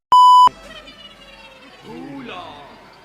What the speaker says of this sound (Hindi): उसको मैं पूरा मतलब कि बीप कर दूंगा